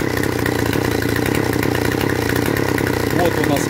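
A petrol chainsaw engine runs during carburetor adjustment, with a loud, close, rapid buzzing drone that holds steady for the whole stretch while a voice speaks over it.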